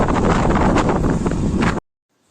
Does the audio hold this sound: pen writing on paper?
no